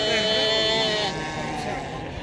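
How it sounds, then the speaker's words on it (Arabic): Local sheep bleating at a busy weekly livestock market, a wavering bleat rising over steady crowd chatter and nearby voices. "خروف بلدي تبارك الله اللهم بارك."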